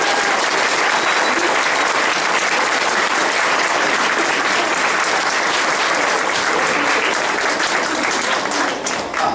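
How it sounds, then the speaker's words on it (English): Sustained audience applause for a graduating fifth-grade class at a Ponderosa Elementary ceremony, dense, even clapping from a large crowd that holds steady throughout before starting to thin at the very end. "Let's give yourselves a nice round of applause for them"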